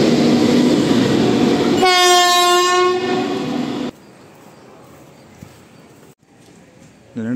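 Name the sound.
railway locomotive engine passing through station, horn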